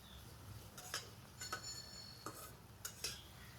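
Onion being stirred in a pan, a few soft scraping strokes spaced apart over a faint low hiss, close and quiet with no talk.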